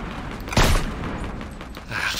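Fortnite gunfire, one sharp loud shot followed by a rough decaying rumble and a faint later burst, over game background noise.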